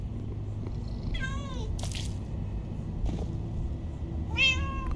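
Cats meow in the video game Minecraft Story Mode: two distinct rising-and-falling meows several seconds apart, with soft clicks and a faint low hum in between.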